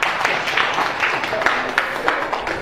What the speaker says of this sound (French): Très bien, applaudissez-le.